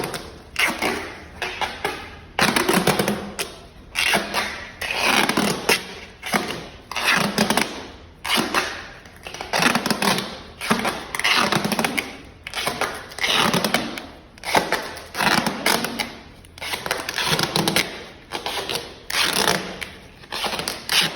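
Duct tape is pulled off the roll and wrapped snugly around a leg splint in repeated loud ripping bursts, each lasting about a second with short pauses between, close to the microphone.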